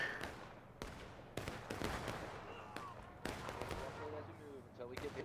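Gunfire in a large-scale online battle game: sharp shots crack at irregular intervals, some close and loud, others distant, over a busy background of battle noise, with voices talking in places.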